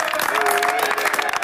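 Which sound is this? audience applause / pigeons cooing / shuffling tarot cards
audience applause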